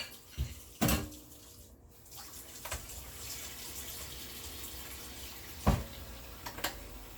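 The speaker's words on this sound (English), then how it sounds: "Put some water in my bowl." Tap water running into a bowl while a spoon is rinsed in a kitchen, a steady close gush with a few sharp knocks and clinks over it, and no one talking.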